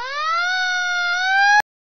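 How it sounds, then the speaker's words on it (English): A fire truck siren plays as one loud, steady electronic wail with a slowly rising tone, close and alone, and it cuts off abruptly after about one and a half seconds. "Fire truck."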